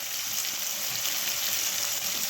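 Grated coconut fries in a pan for kurma curry, giving a steady bright hiss and sizzle that stays even and close throughout, with no speech.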